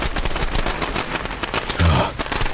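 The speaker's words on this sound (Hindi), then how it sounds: "उसमें से पटाखे की आवाज आने लगी।" Firecrackers going off from a burning doll in a Hindi cartoon, a dense rapid crackle of loud pops and bangs filling the short stretch.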